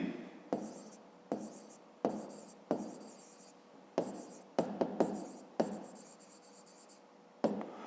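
Pen writing on paper during a 5th-grade maths exercise, quick strokes in short bursts with brief pauses between them, close and fairly quiet, no voices.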